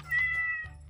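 A MetaCat smart interactive robotic cat lets out a single lifelike meow, close and clear, with a low steady hum beneath it and no talking.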